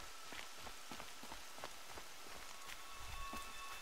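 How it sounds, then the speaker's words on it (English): Rain in the video game Horizon Zero Dawn, a faint steady patter of drops on the ground with soft footsteps running through it and no talking. "More rain."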